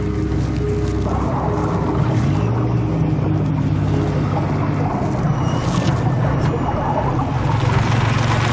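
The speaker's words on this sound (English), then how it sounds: "John, should we fire up the engines and then do a little bit of trawling?" Boat engines idle in a steady, low rumble on a loch, a continuous drone with churning water held at an even level throughout, with no talk over it.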